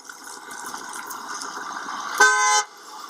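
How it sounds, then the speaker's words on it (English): A car drives along with a steady engine hum and then gives one short, loud horn toot near the end, with no talking. "coming towards me honking the horn"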